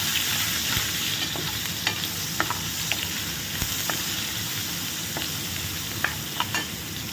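Chopped tomatoes go into a hot frying pan and get stirred, giving a steady broadband sizzle with scattered scraping clicks of the spoon against the pan, close and fairly loud throughout, with no voices.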